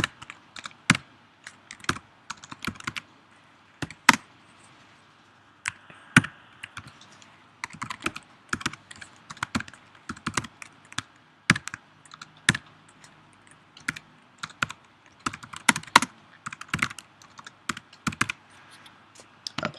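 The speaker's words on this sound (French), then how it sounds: "je vous invite à vous précipiter sur votre clavier, taper tout ça" Rapid, uneven clicking of keys on computer keyboards fills the whole stretch, crisp close strikes in bursts with brief pauses, no voices.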